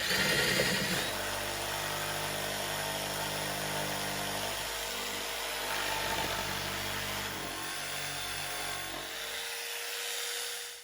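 A jigsaw cuts an entry hole through wood for a screech owl nesting box, buzzing steadily and close, its pitch shifting with the cut before stopping at the end.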